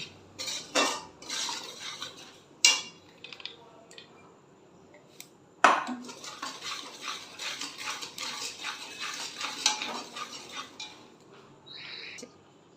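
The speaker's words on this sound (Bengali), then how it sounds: "ভালো করে নেড়ে চেড়ে নেব এটাই কষিয়ে আমি এর মধ্যে আলুটা দিয়ে দেবো" Potatoes and spices being stirred in a metal pan for a vegetarian spiced potato dish, with repeated scraping and clanking of a utensil against the pan, sharp knocks and irregular rhythm, close and moderately loud.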